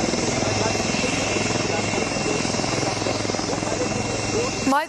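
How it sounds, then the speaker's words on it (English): Made-in-India light combat helicopter taxiing after landing, its rotor and engine roaring loudly and steadily with a fast chopping pulse, close by and constant. "has landed and is now taxiing back towards the dispersal in front of you"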